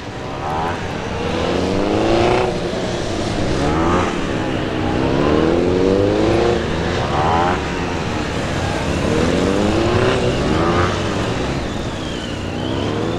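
A Honda CRF250L motorcycle at a beginner riding practice session, its single-cylinder engine repeatedly revving up and easing off in sweeping rising tones as it loops nearby, loud and prominent with no talk.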